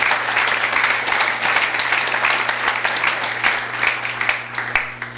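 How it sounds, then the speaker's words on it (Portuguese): Congregation applauding at a church winter camp session, a dense sustained burst of clapping throughout, loud and close, with a low steady hum underneath. "Então dê um aplauso aí pela vida do seu irmão"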